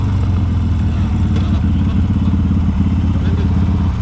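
A Kawasaki motorcycle fitted with a changed aftermarket exhaust idles nearby with a loud, steady, deep rumble and a slight mechanical rattle.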